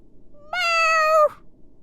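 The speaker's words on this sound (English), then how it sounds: "Meow!" A single cat meow from the Phoenix Wright: Justice for All video game, one clear sustained tonal call lasting under a second, close and alone against a quiet background.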